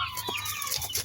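Chickens and chicks at feeding time, clucking and peeping together in a busy overlapping chorus close by, with no voices over them.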